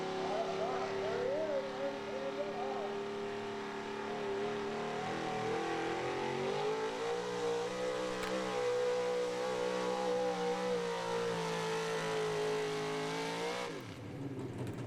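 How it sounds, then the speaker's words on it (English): A 1975 Ford pulling truck roars at high revs through a truck pull run, a loud, sustained engine howl that rises and holds before cutting off sharply near the end, with an announcer talking over it. "And here's Adam Tice, 75 Ford, a top running truck out of Eastern Pennsylvania."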